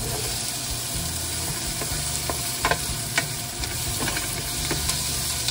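Olive oil with garlic, onions and tomatoes frying in a pan, a steady close sizzle with soft stirring scrapes and a few brief clicks, no voices.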